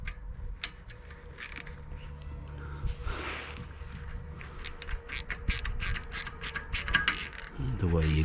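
A spanner tightens a nylock nut onto a bolt during assembly of a dual-band Yagi antenna, giving repeated ratcheting clicks and creaks, close by and moderately loud, with brief pauses between turns.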